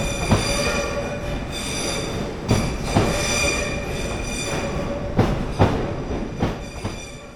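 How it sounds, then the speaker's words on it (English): A 12-carriage intercity train rolls into a platform steadily with a loud rumble, wheels squealing in high tones and periodic clacks as carriages pass over rail joints. "get to the platform and get a shot of the train arriving"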